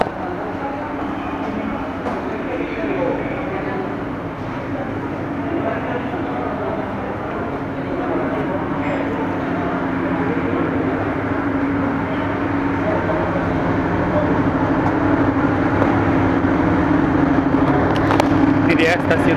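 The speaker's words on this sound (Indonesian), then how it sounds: "Ini dia stasiun Tanjung Karang." At Tanjung Karang station in Bandar Lampung, the Sriwijaya executive-class train rumbles steadily nearby with a low continuous drone, growing slightly louder toward the end, while people talk in the background.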